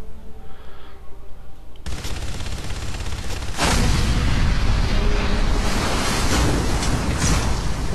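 Video game gunfire, with a dense roar of shots and blasts that starts abruptly and then swells into a loud, sustained rumble.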